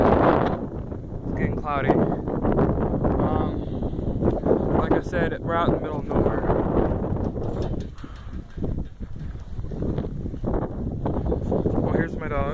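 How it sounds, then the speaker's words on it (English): Heavy wind buffets the microphone outdoors in an open, remote spot, a loud, constant low rumble with gusts underneath a person speaking throughout. "I'm sorry it's windy."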